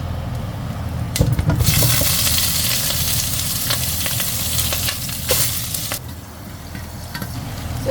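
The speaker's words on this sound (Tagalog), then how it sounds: "At ito, iisa-isahin natin ilalagay doon sa ating mainit na oil." Garlic sautés in hot olive oil in a pan for humba, a loud continuous sizzle with bursts of crackling as pieces are added and stirred, close and without talking.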